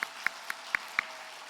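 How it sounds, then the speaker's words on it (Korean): A church congregation claps in blessing, a handful of separate sharp claps spaced evenly about a quarter second apart, fairly faint and without voices. "자, 박수로 축복하겠습니다."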